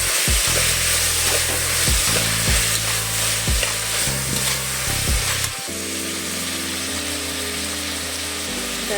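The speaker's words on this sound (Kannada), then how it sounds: "ಟೊಮೆಟೊ ಎಲ್ಲ ಸ್ವಲ್ಪ ಮೆತ್ತಗಾಗಲಿ, ಸಾಫ್ಟ್ ಆಗಲಿ, ಅಲ್ಲಿ ತನಕ ಚೆನ್ನಾಗಿ ಫ್ರೈ ಮಾಡ್ಕೊಳ್ಳೋಣ" Chopped tomatoes fry in a pan with a steady close sizzle, broken by a series of sharp stirring knocks and scrapes against the pan during the first half. After that the sizzle continues alone.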